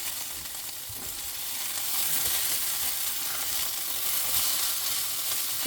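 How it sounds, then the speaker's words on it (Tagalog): Sausage and shredded hash browns sizzle on a griller, a steady, close frying crackle with bright hiss that holds evenly throughout without any talk. "Ito na yung sausage. Nandito na sa griller. And shredded hash brown."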